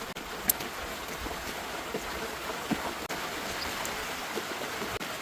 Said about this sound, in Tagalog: malakas pa rin ang ulan ngayon